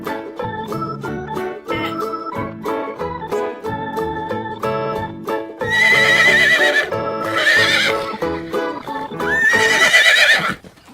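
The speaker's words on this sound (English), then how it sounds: "Horse." A horse whinnies in several long, shrill neighs, the loudest coming in the second half, over a steady musical backing with faint hoof clip-clop.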